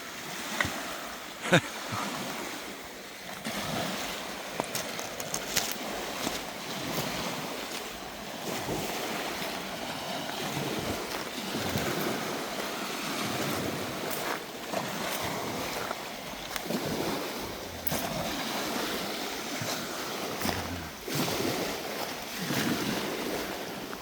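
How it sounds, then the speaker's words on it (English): Steady wash of ocean waves rolling in and breaking at Crescent Beach, continuous and fairly loud, with some wind buffeting the microphone and no talking. "Oh, I love the sound of the ocean."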